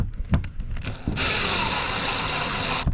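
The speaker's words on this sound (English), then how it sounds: "And now I can get my ratchet under there on this guy, hold it." A ratchet wrench tightening a bolt on a Yak Attack Mighty Mount II kayak mount, a few clicks near the start, then a steady, loud, close mechanical buzz that runs on, no talking.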